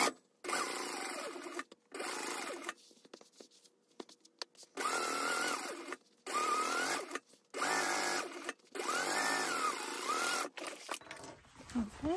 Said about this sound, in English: I'm going to just baste around the edge at 1/8 of an inch